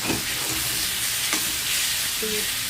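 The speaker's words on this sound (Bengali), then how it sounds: "তেল দিয়েছি, তেলের উপরে শুকনো লঙ্কা, কালো জিরে, তেজপাতা সম্বার দিয়ে রসুন থেতো করে দিয়েছি" Dry chilli, black cumin, bay leaf and crushed garlic fry in oil, a continuous loud crackling sizzle with a few small pops and no talking.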